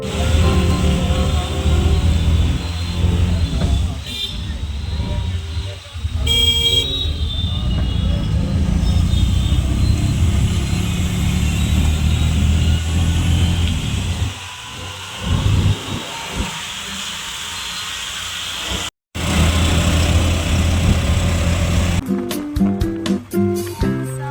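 Cab ride home from Sarojini Market in Delhi just after rain: a steady, close road-and-engine drone fills the cabin, with brief dips, a short dropout and some rattling bumps near the end.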